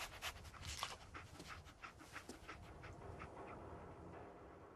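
Dog Meat, the canine companion in the video game Wasteland, pants in quick rhythmic breaths, close but quiet, over a low rumbling background.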